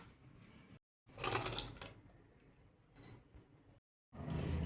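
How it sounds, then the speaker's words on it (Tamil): A mixer grinder pulses milk cream in a mixie jar, giving two short bursts of motor whir with rattling, separated by silent gaps, followed by a third burst starting near the end. "ஆடையை மிக்சி ஜாரில் போட்டு பல்ஸ் மோலில் அடித்து இந்த சட்டியில் நம்ம ஊற்றிக்கலாம்"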